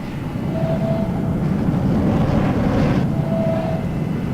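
F-104 Starfighter jet engine in a flight simulator, running up on the ground at high power with a compressor stall: a steady loud roar with two brief tonal whines, no talk.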